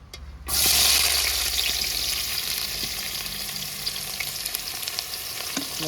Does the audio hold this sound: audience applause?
no